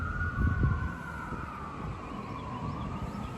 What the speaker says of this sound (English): Still not seeing those sirens. I thought they were coming closer